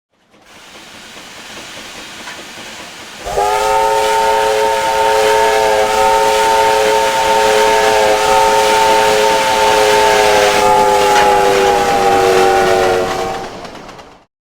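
A DRG 05 streamlined steam locomotive runs at speed, a steady loud rushing roar that builds sharply as a long, sustained multi-tone chime whistle sounds for about ten seconds before cutting off.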